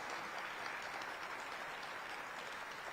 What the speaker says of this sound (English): Another round of applause for all of you